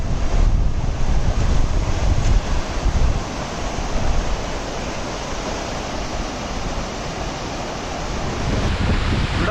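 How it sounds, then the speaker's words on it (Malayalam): Strong, cold mountain wind on the trek from Phakding to Namche Bazaar buffets the microphone in a loud, continuous roaring rush that swells and eases slightly, with no voices. "ഇവിടെ ഹെവി കാറ്റാണ്."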